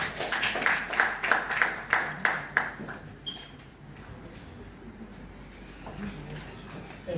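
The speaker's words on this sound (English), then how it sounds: "Let's give him a round of applause." Audience at a climate and environmental communication initiative launch giving a round of applause, a short burst of rhythmic clapping in a hall that fades out after a few seconds into quiet room tone.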